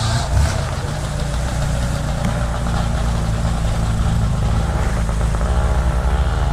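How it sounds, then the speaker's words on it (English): Motorbike engines run past a house, a steady mid-pitched rumble with knocking texture that holds loud and continuous throughout, with no talking. "Motorbikes running through my house here."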